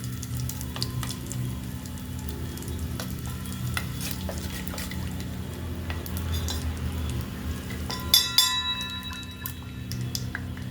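Asafoetida goes into very hot oil for a fresh turmeric pickle and sets off a soft, steady sizzle over a low stove hum. A few light utensil clinks and a brief louder crackle follow.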